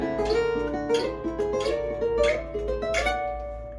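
A clean guitar plays quick sweep-picked gypsy jazz arpeggios, notes rolling up and down in a steady repeating pattern, moderately quiet and close.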